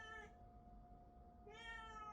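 A house cat gives two short meows, one at the start and one after a pause, faint against a quiet room with a low steady hum.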